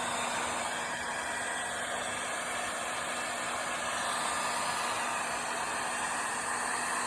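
A heat gun blows a steady, loud, broadband whoosh with a faint constant whine, held without a break while warming a bent ABS plastic console from a Trans Am.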